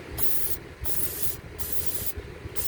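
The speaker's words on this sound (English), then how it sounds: "Make sure you have some brake cleaner handy." Brake cleaner aerosol hissing in three bursts, each under a second with short gaps, loud and close, sprayed onto a stuck brake caliper of a Hyundai Sonata.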